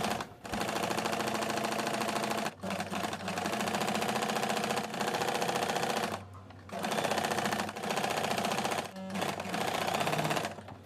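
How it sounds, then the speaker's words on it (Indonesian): An electric sewing machine stitches a sleeve for a gathered-sleeve dress, a loud, rapid mechanical chatter running in long bursts with several brief pauses between runs, close and alone. "habis itu dijahit pakai mesin jahit"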